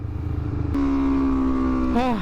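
A Honda CBR250RR motorcycle engine drones at a steady pitch, then shifts and drops away as the rider moves, loud and close throughout.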